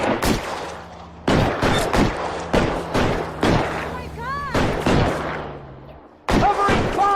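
Loud gunfire in the crime game LA Noire, with sharp cracking shots in irregular bursts and short pauses between them, and voices calling out under the shooting.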